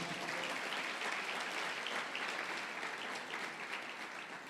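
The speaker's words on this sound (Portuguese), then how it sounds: "Dá um aplauso ao Senhor por isso, então." A church congregation claps in steady, dense applause that sounds somewhat distant and fairly quiet and continues evenly to the end.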